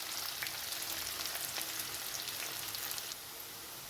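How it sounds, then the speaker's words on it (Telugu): Onions frying in a pan for aloo poori curry, a dense crackling sizzle close up that drops to a quieter hiss near the end. "ఉల్లిపాయలు వేగాయి"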